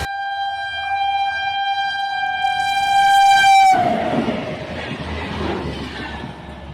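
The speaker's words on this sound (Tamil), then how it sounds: "மதுரையிலிருந்து போடிக்கு தினசரி காலையும் மாலையும் பயணிகள் ரயில் இயக்கப்படுகிறது" A passenger train on the Madurai to Bodi line blares a long, loud multi-tone horn that cuts off abruptly, followed by the rumbling clatter of carriages rolling past close by.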